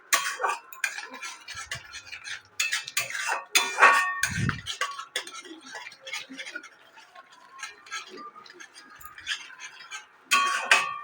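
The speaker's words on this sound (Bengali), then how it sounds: "সমস্ত কিছু দিয়ে আমি একটু ভালো করে নেড়ে চেড়ে দেবো।" A spoon stirring fish curry spices in a pan, rapid scraping clinks and taps of metal on the pan going on steadily, with someone talking over them.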